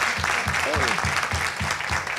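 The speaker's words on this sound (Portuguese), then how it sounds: "Pode aplaudir vocês, pessoal." Audience at a teachers' assembly clapping in a dense, steady rhythm that keeps an even beat throughout, with a voice faintly present alongside.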